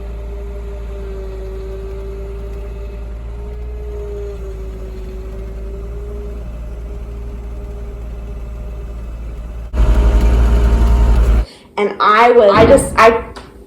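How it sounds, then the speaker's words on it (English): After a long stretch of low engine idle, snow slides off a tin roof in a sudden loud rushing roar of under two seconds, followed at once by a person talking. "that's the snow falling off our tin roof."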